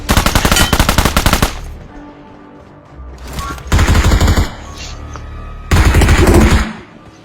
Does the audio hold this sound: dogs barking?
no